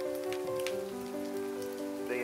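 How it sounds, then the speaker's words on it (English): Steady monsoon rain falls on the ground in Tucson, Arizona, a continuous hiss of drops with a constant tone humming through the background. "Well, it's raining and the ants have released their flying brethren."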